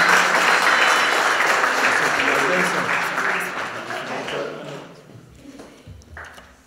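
Round of applause from a church congregation at a parish Martin Luther King Jr. Day celebration, loud at first then thinning and fading out, with a few voices emerging as it dies away.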